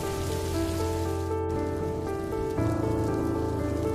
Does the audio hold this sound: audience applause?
no